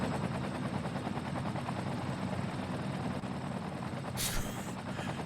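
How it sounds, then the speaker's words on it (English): Helicopters in the city-building game Cities: Skylines give a steady, loud rhythmic rotor chop that runs throughout, with a brief burst of noise near the end. "We've got helicopters here."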